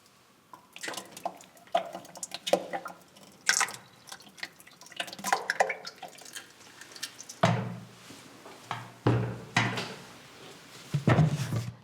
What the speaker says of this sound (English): scrape that off into a jug and then pour the cream into the churn